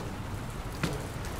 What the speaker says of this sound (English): I don't think it's supposed to still be raining